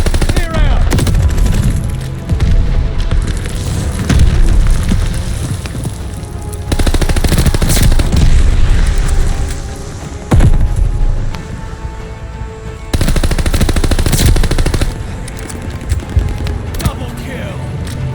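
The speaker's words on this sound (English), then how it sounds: "Incoming bomb." Explosions and heavy gunfire with machine-gun bursts from the Call of Duty Vanguard video game, loud and continuous, with dense booming bursts throughout and a voice speaking over parts of the action.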